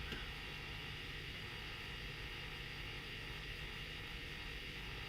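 An electric guitar's pickups give off a steady, faint electrical hum and hiss, constant and unchanging, with no playing or talking over it.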